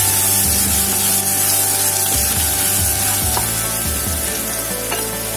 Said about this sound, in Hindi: ये देखिए, सरसों फूटने लगा है, इसको अभी हम लोग थोड़ी देर सौते कर देंगे।